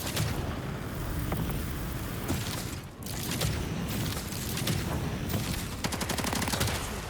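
Gunfire in the Off The Grid shooter, aimed at an enemy during a jetpack fight: loud, continuous automatic shots close by with explosive, mechanical clatter mixed in and a brief dip partway through.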